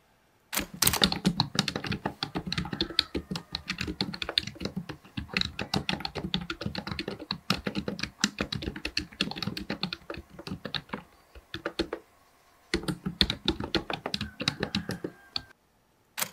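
Rapid keystrokes clatter across an Axioo Hype Flex 3 laptop keyboard with a full number pad, a dense close run of typing that pauses briefly near the end before resuming.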